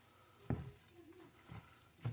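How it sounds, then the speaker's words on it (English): Shrimp pasta carbonara with capers and mushrooms stirred in a pan, three distinct scraping, sizzling strokes spaced about half a second to a second apart, close and fairly quiet. "we'll give this one last stir"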